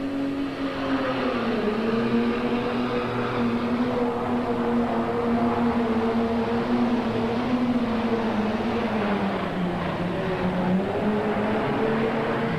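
An International tractor at a tractor pull at the 1996 National Farm Machinery Show, its engine roaring loud and sustained with a steady drone that sags and recovers under load, no voices over it.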